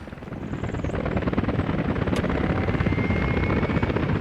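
Helicopters arrive in the Soviet-era city-building game Workers & Resources: Soviet Republic, giving a steady, throbbing rotor thrum that swells slightly and holds loud and close throughout, with no talking.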